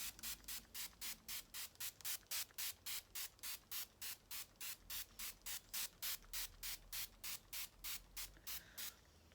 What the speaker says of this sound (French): Je vais mettre mon spray fixateur.